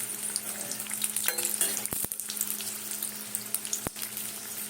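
Green chilli fritters fry in oil with a steady crackling sizzle, punctuated by a few sharp clicks and utensil knocks, and no one speaking.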